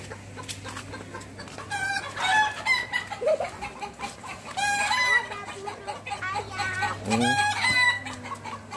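Chickens and a rooster calling at a farmyard by a fish pond, several loud bursts of clucking and crowing with steady background hum between them.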